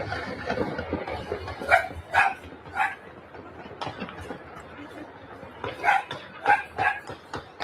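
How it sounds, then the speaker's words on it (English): A dog barking in a played video, with repeated yips and barks in two clusters over muffled chatter and speech, sounding slightly distant and thin as if coming through speakers. "The dog is clearly barking in Spanish."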